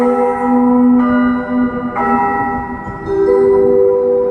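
Large bells ring out at a shrine during an Annaprasana holy mass, struck roughly once a second so each loud, sustained chime overlaps the humming decay of the last, with no voices.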